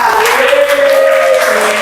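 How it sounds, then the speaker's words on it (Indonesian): Pupils applaud in a classroom during a school lesson, a loud, continuous patter of many hands with a voice speaking over the clapping. "silakan tepuk tangan"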